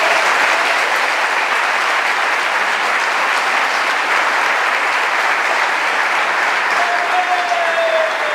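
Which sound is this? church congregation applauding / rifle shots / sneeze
church congregation applauding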